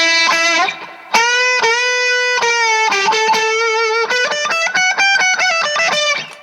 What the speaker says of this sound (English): you can just push right on your hot channel, your super distortion, super saturation